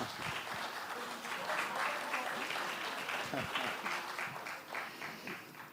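An audience at a conference breaks into sustained applause, a dense wash of clapping that swells and then slowly tapers off.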